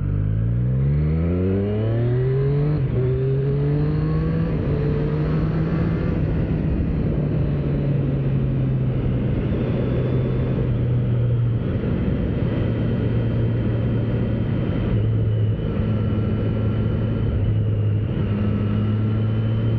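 A 2025 Triumph Street Triple RS motorcycle pulls hard, its engine note climbing through several rising gear sweeps, then settling into a steady loud drone with brief shift dips, close up with wind roar and no talk.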